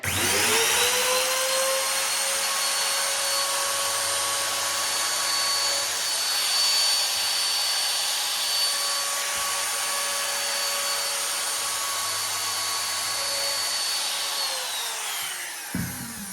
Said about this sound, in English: if I depth my router back about halfway there now